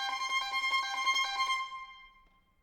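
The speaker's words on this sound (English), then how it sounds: "There's a short little spiky idea given to the first violin that sounds like this." A first violin plays a short spiky idea from Beethoven's String Quartet Opus 59 No. 3: a quick run of bright, detached notes, fairly quiet, that rings out and fades into silence.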